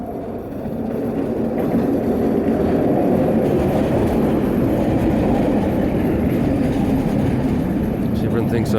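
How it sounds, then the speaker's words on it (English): Train rumbling past close by, a loud, continuous roar of wheels and carriages that builds within the first second, then holds steady, with a voice talking over it. "Sorry, train's coming. It's coming straight for me."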